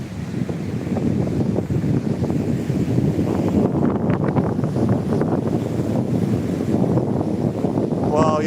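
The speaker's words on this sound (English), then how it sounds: "you're hearing the roar for definite now because it's roaring in my ears" Strong wind roaring over a microphone on the seafront walk between St Julian's and Sliema, a loud, constant rumbling gust with surf mixed underneath, steady for the whole stretch.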